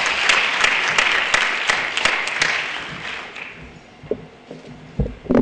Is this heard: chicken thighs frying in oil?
no